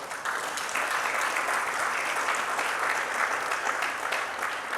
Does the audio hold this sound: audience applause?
yes